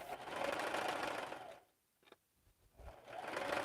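A quilting sewing machine in need of oil runs steadily, stops briefly for a near-silent pause with a small clunk, then starts whirring again at the same busy, even pitch.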